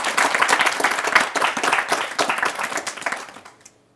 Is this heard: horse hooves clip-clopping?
no